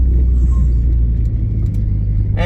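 A Mitsubishi Evo fitted with a Whiteline bumpsteer correction kit drives along, its steady, loud low engine and road rumble heard from inside the cabin, with a faint short squeak near the end.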